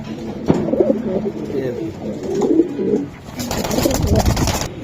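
Racing pigeons, including a black checker pied bird, coo softly in a loft with low murmuring calls and wing rustles, while people talk nearby.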